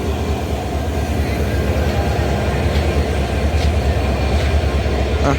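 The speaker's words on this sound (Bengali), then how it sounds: "এটা আবার কোন ট্রেন ঢুকতেছে জয়দেবপুর কমিউটার সম্ভবত" A Joydebpur commuter train rolls into a station, a loud continuous rumble of wheels and carriages with low droning throughout and faint squeals near the end, close by.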